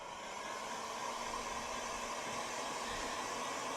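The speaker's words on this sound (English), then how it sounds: "Grab our heat gun." A heat gun blowing hot air to heat-set a freshly painted crankbait lure, a steady, even whoosh of airflow with a faint tonal hum, moderately quiet and uninterrupted, with no voices.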